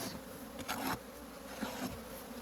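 A dense, steady drone of many honey bees buzzing close by during a hive cutout from an owl box, with individual bees swelling louder as they pass near.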